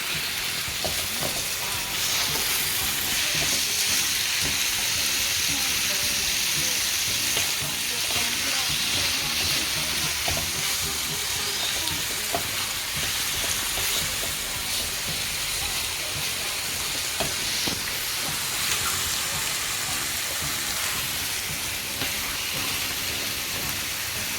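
Chicken and beetroot fry in a pan for chicken chapati, with a dense, continuous sizzle and repeated scraping stirs running evenly throughout at close range.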